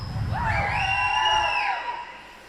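Crowd cheering and whooping at a swimming gala in an indoor pool, a sustained burst of voices with a rising shout that swells and then fades away near the end.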